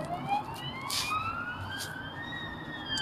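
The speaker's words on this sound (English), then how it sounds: "So that's an ambulance going across the bridge." An ambulance siren wails up and down in the distance, passing over a bridge above steady traffic rumble.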